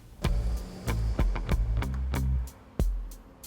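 A Porsche Cayenne S Hybrid creeps away gently on electric power alone, a low motor whine and hum broken by a series of sharp mechanical clicks and knocks, close and fairly loud with no talking.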